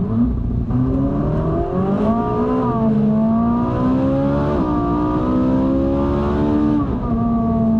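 Ferrari 458 Spider V8 engine heard from inside the car through a lowered rear window, a loud continuous howl rising and falling in pitch through several rev changes while cruising near a toll booth.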